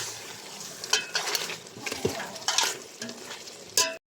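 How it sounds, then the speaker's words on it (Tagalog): Adobo chicken in coconut milk with pepper and bay leaf being stirred in a pan: repeated spoon scrapes and clinks against the metal over a soft bubbling sizzle, close and fairly quiet. "So, haluin lang natin guys."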